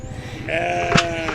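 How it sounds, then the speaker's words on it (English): A single loud, close sheep bleat, a wavering nasal cry lasting about a second, with a faint voice-like sound before it. "Hey, sheep, sheep, sheep."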